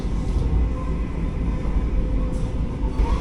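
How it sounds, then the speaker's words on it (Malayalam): Vande Bharat Express train rolling into Dharmapuri station, a steady low rumble of wheels and running gear heard from on board, continuous and fairly loud with no talk. "അപ്പം നമ്മൾ ജസ്റ്റ് ധർമ്മപുരി സ്റ്റേഷനോട്ട് കയറുന്നു."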